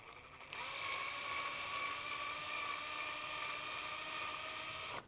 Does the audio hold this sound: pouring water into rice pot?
no